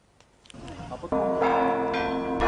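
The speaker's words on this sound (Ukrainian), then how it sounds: "Дзвони скликають вірян на службу." Church bells ring out at a church in Odesa region, Ukraine, calling worshippers to service: a few soft strikes first, then fuller resonant peals ringing on, with a faint voice at the start.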